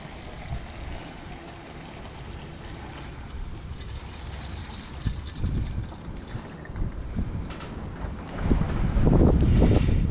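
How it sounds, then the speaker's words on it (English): Steady wind buffeting the microphone, a low rumbling roar that swells and gusts harder toward the end, with no one speaking. "And it's so windy out."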